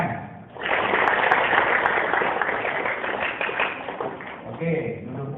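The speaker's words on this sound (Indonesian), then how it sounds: "Sekarang tepuk tangan." A crowd of scouts and guests at an Islamic boarding school event breaks into steady applause, dense hand clapping that starts abruptly and continues loudly throughout, with some voices mixed in.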